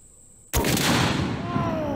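A single loud, close gunshot from a large-magazine firearm cracks out after a half-second of quiet, followed by a long rumbling echo that slowly fades.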